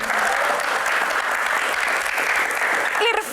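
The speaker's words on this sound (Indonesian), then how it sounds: "Keluarga, tepuk tangan." Audience applause at a live Q&A event with an Indonesian football figure, a steady loud wash of clapping that holds throughout, with a voice cutting in briefly near the end.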